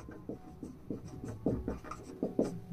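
Handwriting the unit newton, a series of short scratchy pen strokes in an uneven rhythm, close and fairly quiet, with no talking.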